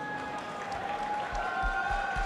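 Applause from an audience at the close of a public discussion forum, a steady wash of many hands clapping together, moderately loud and sustained, with a faint tonal hum beneath.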